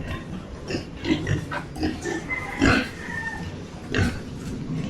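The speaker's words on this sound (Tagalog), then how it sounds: "Ito yung mga biik." Piglets on a farm oink and grunt in several short bursts, close by, with a steady murmur of background noise between the calls.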